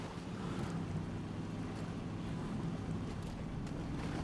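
A truck drives through water in the SnowRunner game. A steady, loud rush of churning water and engine rumble runs without a break.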